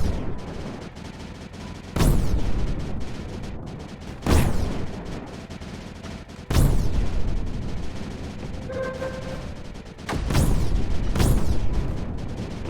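Cannons firing in the strategy game Creeper World 4, four heavy booming blasts spaced a few seconds apart, each trailing off into a dense rumbling wash of explosions.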